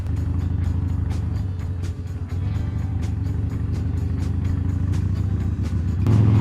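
Harley-Davidson Forty-Eight Sportster motorcycle engine idling roughly and unevenly while struggling to start, a steady low throb with faint irregular clicks, rising slightly in level at the end.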